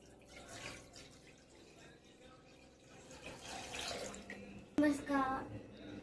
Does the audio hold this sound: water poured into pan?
yes